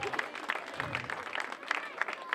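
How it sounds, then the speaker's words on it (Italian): A crowd at an outdoor town pageant event in Falerna, Italy claps in a brief, moderate burst of applause, heard somewhat far off with a voice faintly mixed in. "Vittorio Motta, applauso per il vostro paesano e amico."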